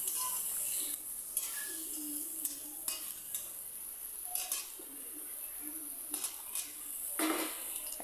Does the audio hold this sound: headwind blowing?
no